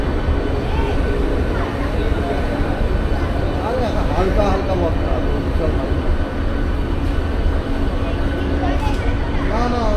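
A Howrah to Shalimar local train carriage departing, a continuous low rumble with rising and falling whining tones from the motors, with voices of passengers talking throughout.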